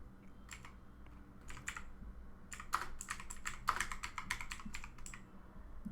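Close computer keyboard typing in uneven bursts of crisp key clacks over quiet room tone, with short pauses between the bursts.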